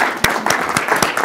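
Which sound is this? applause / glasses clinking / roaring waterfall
applause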